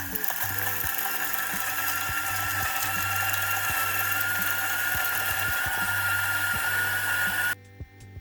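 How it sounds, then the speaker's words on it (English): A Timemore Sculptor 078S coffee grinder grinding coffee beans makes a loud, continuous motor whir with a steady hum and crackling bean-crushing texture, close up, cutting off abruptly near the end. "I turn the grinder on, slide the lid back so it's half open"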